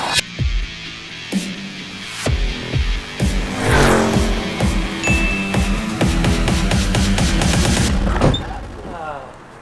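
Cars arriving and turning on a street, engines rumbling and throbbing nearby with clanks, knocks and sharp mechanical bangs scattered throughout, while people talk in the background.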